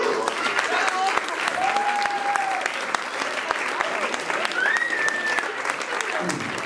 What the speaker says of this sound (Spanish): Les pido por favor que se extienda ese aplauso